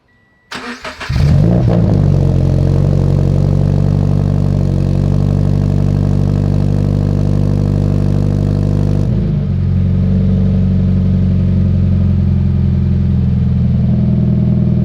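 A Subaru FRS 86 fitted with a new JDM-spec exhaust cold-starts after a brief crank, then settles into a loud, steady deep idle that continues close by without any talk.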